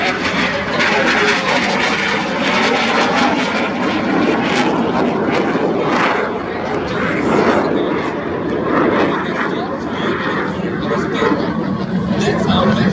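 Jet trainers of the Frecce Tricolori, the Italian air force display team, flying a display at RIAT 2025, giving a loud, continuous broadband engine roar that swells and fades as they pass overhead, with a commentator talking over it.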